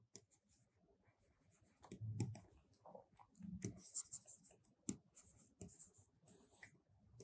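Trigonometry being written out during a math lecture, faint scratchy strokes and taps of a pen or marker coming in short irregular bursts between near-silent pauses.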